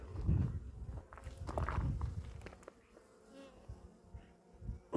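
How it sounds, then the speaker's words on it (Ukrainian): Buckfast honey bees buzz busily around the microphone in Ireland, a dense droning hum that swells and fades, with some handling and rustling noises mixed in. "Оце бджоли бакфаст."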